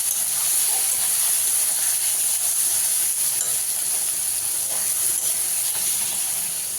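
Onion and tomato sizzle steadily in a hot pan as turmeric, chili, coriander and cumin powders are stirred in, giving a continuous close, bright hiss with no voices.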